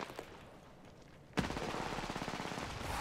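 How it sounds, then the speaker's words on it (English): Rapid automatic gunfire bursts out in an Apex Legends match on Storm Point after a quiet moment, a loud, dense rattle of shots that keeps going to the end, with no talk over it. "Yeah, like actually getting shot at now."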